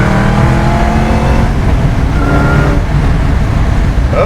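A 1979 Camaro Z28 with a 755-horsepower LT5 V8 roars loudly and steadily while driving, its engine note rising and holding in a close, continuous drone with no talking.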